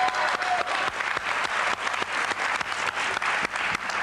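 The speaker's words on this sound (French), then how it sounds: "C'est la première fois qu'on applaudit Hitler" A studio audience on the French TV game show Une famille en or bursts into loud, sustained applause, with dense rhythmic clapping that fills the clip without a break.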